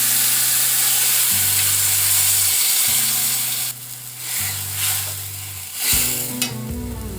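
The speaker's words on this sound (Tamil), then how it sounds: "கொஞ்சம் புளி தண்ணி கொதிக்கிட்டோங்க." Tamarind water bubbling and sizzling steadily in a pan for brinjal gotsu, with a low cyclic hum from a stove or fan underneath and a few soft stirring clatters.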